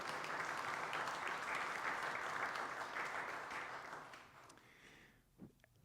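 At a church jazz vespers service, a congregation gives the sound and video board crew a round of warm, dense applause that holds steady for about four seconds and then tapers off into a few scattered claps.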